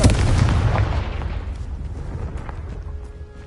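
A Confringo fire spell blasts in Hogwarts Legacy on PS5, a loud booming explosion up front that rumbles and decays over a few seconds, with a faint tonal game cue emerging near the end.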